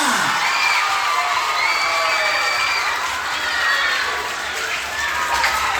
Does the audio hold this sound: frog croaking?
no